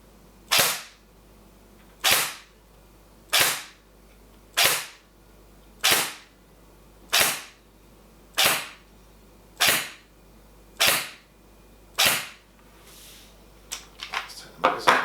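Secutor Rapax airsoft DMR fired through a chronograph, ten sharp evenly spaced shots about a second apart, loud and close, followed by a quick cluster of clicks and rattles.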